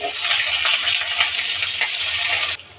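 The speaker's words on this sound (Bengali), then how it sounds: "এগুলো একটু ভাজা হয়ে আসছে," Beans frying in a pan with garlic and green chili, a close, continuous crackling sizzle with light stirring clatter, cutting off abruptly near the end.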